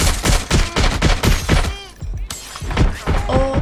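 Rapid gunfire in Watch Dogs Legion, a close, dense volley of sharp shots with thuds and shattering debris, a drone in the fight, and brief electronic chirps near the end.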